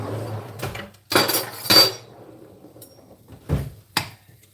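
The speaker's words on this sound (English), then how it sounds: "I'm using this plate to chop stuff on." A knife chopping on a plate used in place of a cutting board: several sharp, ringing clacks of blade on ceramic in short bursts, with quiet pauses between.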